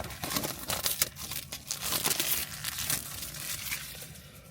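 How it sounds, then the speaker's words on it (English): Plastic wrap is cut and pulled off a DJI Osmo Action 5 Pro camera box, heard up close as continuous crinkling and crumpling with bursts of tearing and rustling throughout, no voices. "So I'm just going to cut the plastic very carefully like that."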